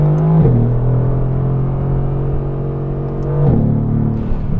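Mercedes-AMG GT R sports car engine heard close and loud, a steady low droning idle-to-mid rev that dips and rises twice, with no voices.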